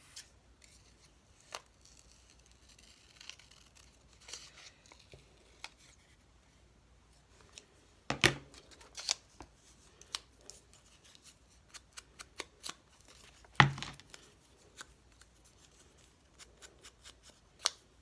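Scissors snip through fragile paper for a craft project with scattered quiet cuts and rustles and two louder, sharper snips, close up with no talking.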